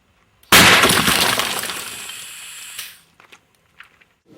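A Micro-Blaster shot breaking limestone: a single sudden loud burst, followed by a crackling hiss of scattering rock that fades over about two seconds. A few faint clicks come after.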